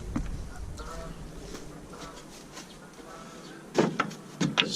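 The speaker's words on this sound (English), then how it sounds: "I hear dogs, geese, and frogs." Geese honk a few times at a distance in a rural yard, with sharper calls bunching near the end over quiet outdoor background.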